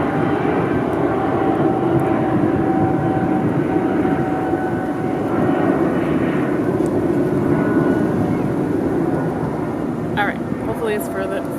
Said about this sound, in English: hold on one second, there's an airplane.